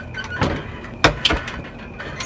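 A nearby back door to a laundry room is handled and swung, giving a soft scrape followed by two sharp, close knocks of the latch and frame, with no voices.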